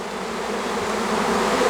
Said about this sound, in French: Donc forcément les abeilles vont suivre.